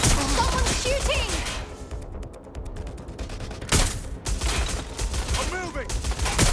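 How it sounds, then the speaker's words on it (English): Gunfire erupts in the video game Watch Dogs: Legion as a loud, dense volley of shots with crashing impacts, mixed with game sound and a voice talking over it. "Someone's shooting!"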